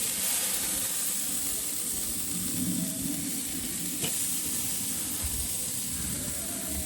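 Steaks sizzle on a barbecue grill in a steady, dense hiss that carries evenly throughout, close and fairly loud with no voices.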